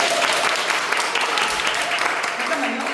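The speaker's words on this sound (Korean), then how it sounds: "여러분 짜고 치는 곳에서 한번 박수 연습할까요?" An audience at an art forum practising applause, dense continuous clapping from a roomful of people, steady and fairly loud, with voices mixed in.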